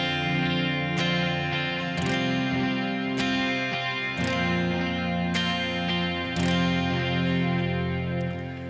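A clean electric guitar plays sustained chords with a light, short tail of reverb, struck roughly once a second and ringing steadily between strums.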